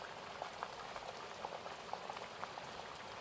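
Steady, soft rain falls as a gentle, even hiss with scattered light droplet ticks, quiet and continuous, with no voices.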